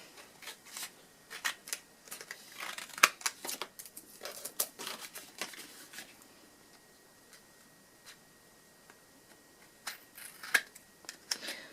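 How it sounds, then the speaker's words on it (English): Scissors trim excess paper from a handmade card box for 4x6 cards, giving a run of quick, crisp snips and rustles in close clusters, busiest early and again near the end, with a quieter stretch between and no talk. "And then you can trim off the excess."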